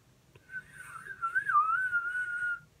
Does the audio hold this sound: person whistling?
yes